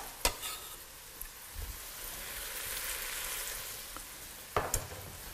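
Vegetables for kale soup sizzle steadily in a hot pot while being stirred, a continuous frying hiss with a couple of sharp utensil knocks near the start and end, no talking.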